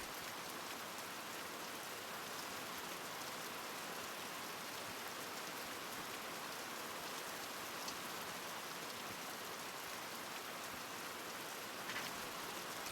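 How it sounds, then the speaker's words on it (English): Heavy rain pours down in a dense, continuous hiss with scattered louder drops, steady and unbroken from start to finish with no voices. "that's some loud rain, isn't it?"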